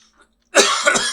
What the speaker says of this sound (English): I hate this cough.